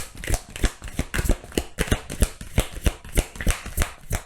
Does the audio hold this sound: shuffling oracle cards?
yes